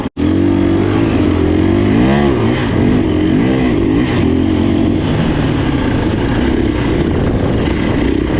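A KTM 350 enduro motorcycle engine roars loudly and continuously while being ridden, its pitch rising and falling as the throttle is worked, heard close up from the bike throughout.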